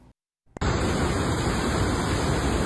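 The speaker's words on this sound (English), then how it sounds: "You're hearing the powerful rushing waters at Tocqueville Falls, the city park in Crawford." Powerful rushing waters at Tocqueville Falls, a city park in Crawford, after heavy rain: a brief silence, then a loud, steady broadband roar of falling water.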